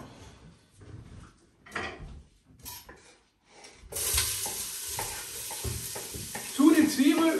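Onions roasting in olive oil in a hot pot for an Italian Bolognese start as a loud, steady sizzle about halfway through, with stirring scrapes and clatter, after quieter moments of voices and kitchen handling.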